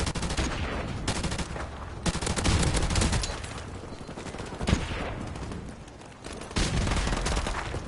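Rapid bursts of gunfire from a video game shooter, loud and dense, with automatic fire rattling in several runs separated by brief gaps.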